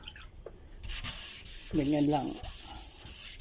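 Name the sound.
wet sanding varnished wood with water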